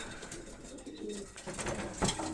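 Young cock racing pigeons coo in their loft boxes, producing a soft, continuous rolling cooing from several birds close by, with faint loft background noise.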